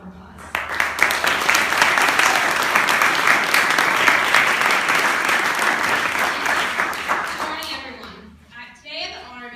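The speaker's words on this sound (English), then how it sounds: "I'd like to welcome Joanna with a big round of applause" A youth summit audience gives a big round of applause welcoming a student class president, loud dense clapping that swells quickly, holds for several seconds, then fades as a voice starts talking.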